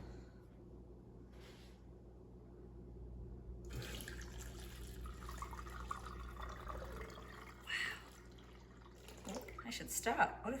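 Fresh cow milk from a first dairy-cow milking drains through a strainer, a steady soft trickle with sporadic drips and clinks. Low background hum runs beneath it, and near the end it turns into louder splashy pouring.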